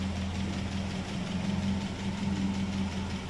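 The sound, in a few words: Citroën Traction 11BL with ID19 engine idling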